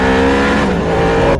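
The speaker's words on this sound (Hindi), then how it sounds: "वह अपनी गाड़ी को बहुत ही तेज भगाने लगता है।" Motorbike speeding away, a loud, close engine roar held steady for a moment before cutting off abruptly.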